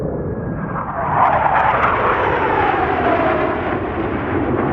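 Aircraft engines drone overhead in a broad, steady roar that swells after the first second and holds loud as the planes pass, with no voices.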